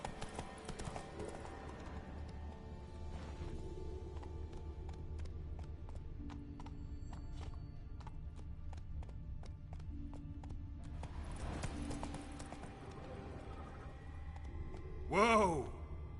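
Hooves of the horse Roach in The Witcher 3, a soft continuous clatter of hoofbeats beneath droning game ambience and music, with a brief rising whine near the end.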